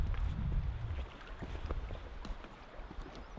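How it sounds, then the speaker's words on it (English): Gusty wind sweeps across a lake at a canoe campsite, a steady low roar with rumbling microphone buffeting that is strongest at the start and then settles into a continuous rushing noise with faint splashy ticks. "The wind actually picked up even more than it already was."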